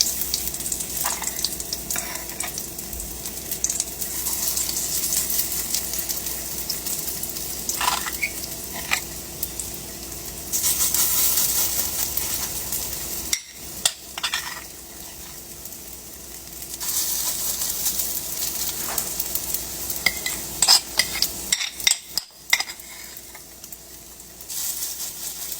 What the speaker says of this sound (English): Just let them brown up and then flip them over and do the same thing to that side.